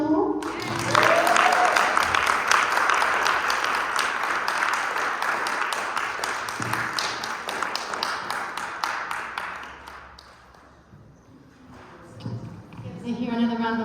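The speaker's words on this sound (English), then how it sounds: "another round of applause for sharing that beautiful story" Audience applause at a live talk on birth: sustained clapping and cheering for around ten seconds that fades out, followed by a speaker's voice.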